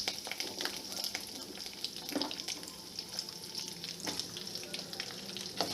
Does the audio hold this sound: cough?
no